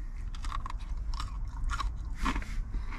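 Close, crunchy bites and chewing of fried chicken with a crisp coating from a Chick-fil-A, a series of dry crackling crunches in an irregular rhythm, faint and intimate with no talking.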